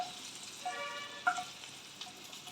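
Cloves, a small piece of ginger and garlic cloves fry lightly in a kadai with a soft, steady sizzle and faint crackles, quiet and close, with no one speaking.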